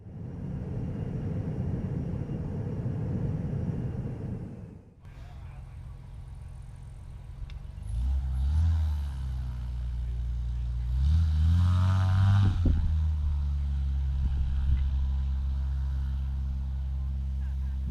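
A light aircraft slips down into a field at a fly-in, its engine a low, rising drone that swells and wavers, with voices talking nearby.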